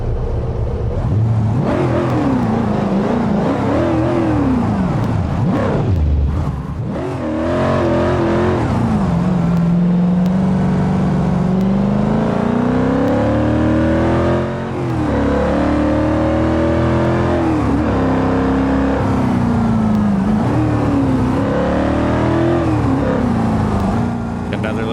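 Car engine in BeamNG driving game, revving hard and changing pitch as it races along a road toward a fuel station, loud and steady throughout with shifting gear-like sweeps.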